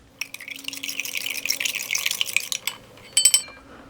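Lemon-flavored iced tea drink mix powder stirred into about six ounces of water, a close, light liquid swishing and clinking that runs for a few seconds, then a brief cluster of sharper taps near the end.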